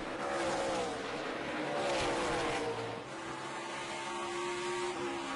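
NASCAR stock cars race around an oval track, their engine roar swelling and fading as the pack passes, loud and continuous with a slight drop partway through, with no talk.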